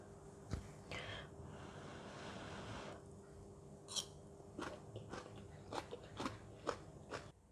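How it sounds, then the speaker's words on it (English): Crunchy chewing of stir-fried bean sprouts with salted fish and garlic. Quiet background gives way to a run of sharp, close bites and crunches, roughly a dozen in uneven rhythm over the last few seconds. "The bean sprout are crunchy and go really well with salted fish."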